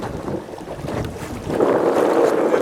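Gusty wind on Lake Okhnych buffets the microphone, rising louder halfway through, with faint water and boat-like movement underneath.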